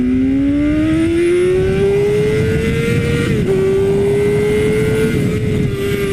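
BMW S1000RR sport motorcycle pulling hard in first gear, its loud engine note climbing steadily in pitch, briefly dropping at a shift-like dip, then rising again under steady wind noise.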